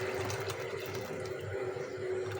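Water steadily draining through a steel strainer while soaked whole grains are rinsed for kheer, a continuous close splashing trickle with no talk over it.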